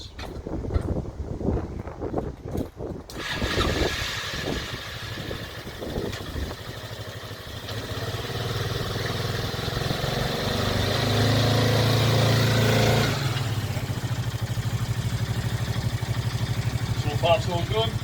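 Voices and clanking give way to a 2004 Boom Trike Fun 500 engine that starts and settles into a steady running rumble, with wind noise on the mic.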